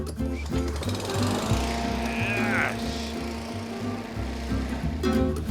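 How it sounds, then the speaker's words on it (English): A Rover self-propelled lawn mower with automatic speed-adjusting drive runs steadily close up, its loud, rough engine drone continuous throughout, with a voice talking over it. "We learn about Rover's MySpeed technology with its self-propelled system that automatically adjusts drive speed to the pace of the user."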